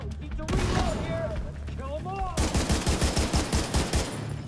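Gunfire in The Division 2 opens with a loud shot and ringing tones, followed by a rapid burst of automatic fire with a steady, evenly spaced rhythm, close and forceful.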